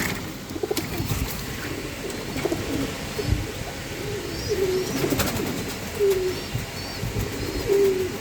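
Pigeons coo repeatedly at close range, soft rhythmic coos recurring every second or so over a faint background hum, with no speech.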